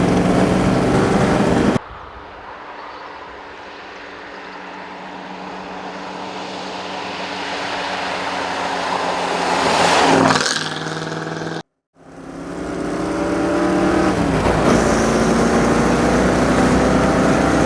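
A 1967 Ford Mustang Shelby GT350 engine roars loudly throughout, with a shift or throttle lift, a rising surge of revs, a brief cut to near silence, then the strong engine drone resuming, without speech.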